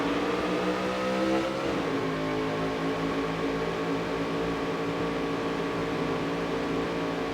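Engine roar of a race car in the NASCAR Dirt to Daytona video game as it launches at the green flag, a loud, steady drone with a pitch shift early on, then a sustained high rev.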